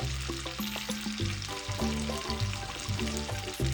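Red onion quarters and sliced mushrooms fry in a pot with a steady, close sizzle and crackle, with small stirring and bubbling sounds throughout.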